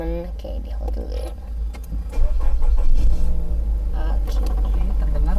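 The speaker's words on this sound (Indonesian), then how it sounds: "Terdengar suara mesinnya tadi masih bagus ya teman-teman" A 2016 Nissan X-Trail 2.5 automatic fires up by push-button start, its engine catching with a surge and then idling in a smooth, steady low rumble close by, with a person talking over it.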